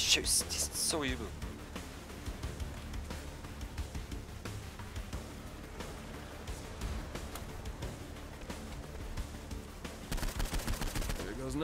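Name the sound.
gunfire in a video game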